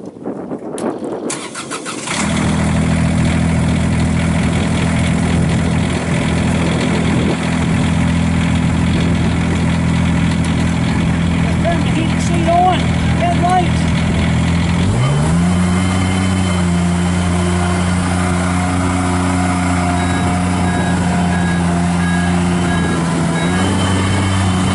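A 2016 Avant 420 compact loader's engine cranks briefly and catches, then settles into a steady loud diesel idle, with a shift in engine note partway through and faint beeps above.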